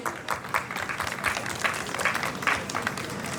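Audience applause for a band at a concert stage event, a steady wash of many hands clapping throughout at moderate level, with no talk over it.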